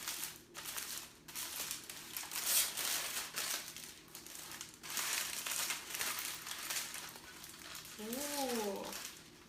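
Baked vegan sausage being unwrapped from its wrapping, giving a run of close, soft crinkling and crumpling bursts throughout, with a brief higher squeak-like sound near the end.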